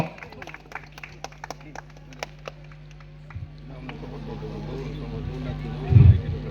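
An audience claps sparsely at a welcome ceremony for a guest judge at a Mangala Puja debate competition. Sharp, scattered claps fade into a low hum, with a voice speaking over them.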